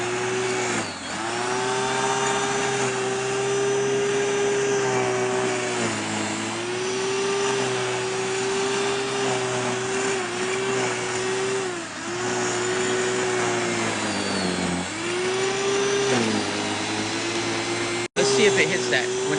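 A Yardworks snow thrower runs with a loud, steady engine drone that dips and recovers several times as it works through dirt and heavy snow, with a brief cut near the end.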